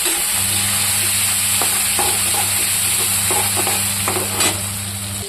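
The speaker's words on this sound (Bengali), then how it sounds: "একটু ভাজা ভাজা করে নেব।" Chopped tomatoes, green chillies, dried red chillies and cumin sizzle steadily in hot oil in a pan, with a constant frying hiss and several sharp scraping stirs and taps.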